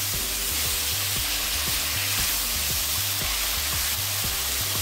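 Radish and potato with turmeric and salt sizzling in a pan for a fish curry, a steady close frying hiss with periodic scraping stirs roughly every half second and no talking.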